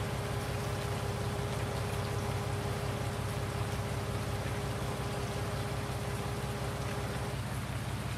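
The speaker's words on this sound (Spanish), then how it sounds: "Está lloviendo que no veas. Menudo diluvio está cayendo." Steady, dense rain hisses without pause in the video game Farming Simulator 19, with a faint constant hum underneath; no voices.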